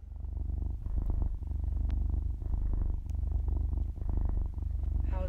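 A cat purrs close and loud inside a car during an electric vehicle road trip, a steady rhythmic rumble in repeated breaths, briefly pausing, with no talk.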